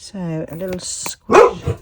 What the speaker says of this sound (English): Sorry about my dog in the background.